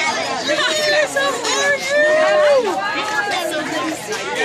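Large welcoming crowd chattering on arrival at a summer camp, a dense babble of many voices with shouts and calls, steady and close throughout.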